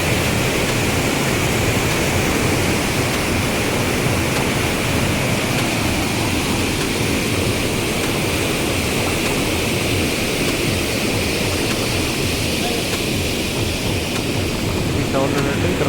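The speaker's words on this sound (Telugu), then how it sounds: "ఈ తూమ్ యొక్క సౌండ్ నేను మీకు వినిపిస్తాను" Water rushes steadily through a reservoir sluice at Pakala, a loud, continuous broadband roar close by with no letup, and a voice faintly under it.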